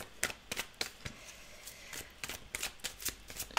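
Spiritual guidance cards being shuffled by hand, a quiet run of crisp riffling flicks and snaps in an irregular rhythm, close and soft, with no voices.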